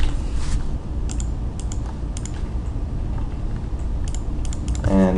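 Computer keyboard typing for web page styling code, a few quick clusters of light key taps over a steady low hum, close and clear, followed at the end by a brief rising tone, no talking.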